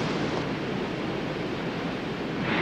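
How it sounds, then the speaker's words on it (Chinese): A waterfall roars as a broad, steady rushing wash in an animated Mini 4WD racing show while a toy race car plunges into it, continuous and loud without talk. "前卫者号阿成稳稳地冲入了瀑布中"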